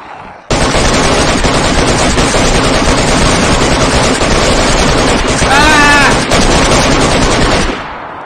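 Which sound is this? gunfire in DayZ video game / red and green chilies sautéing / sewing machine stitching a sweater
gunfire in DayZ video game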